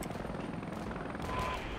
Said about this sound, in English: let's get our helicopters in here. Apache.